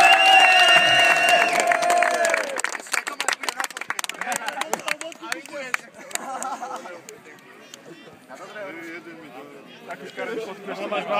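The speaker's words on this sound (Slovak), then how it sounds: "ešte poprosím fanúškov pre veľký potlesk pre chlapcov z Rajčia" Fans at a small-town football tournament applauding players from Rajec, scattered clapping and crowd chatter that swells and fades over several seconds, with talk over it.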